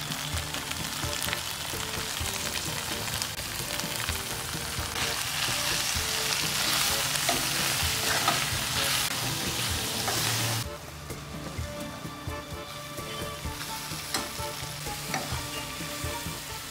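Fried baby corn is tossed in a hot pan for Manchurian, giving a loud, continuous sizzle and crackle with spatula scrapes; the frying noise drops to a softer hiss partway through.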